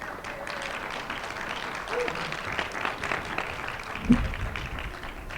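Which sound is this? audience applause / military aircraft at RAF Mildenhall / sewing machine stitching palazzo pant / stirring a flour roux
audience applause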